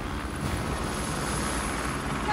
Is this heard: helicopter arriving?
yes